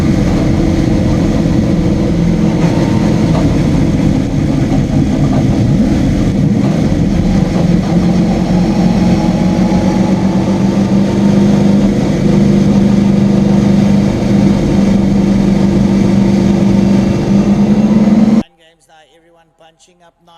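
Race cars on a circuit roll down toward a six-lap restart, a steady drone of engines holding for about eighteen seconds before cutting off abruptly.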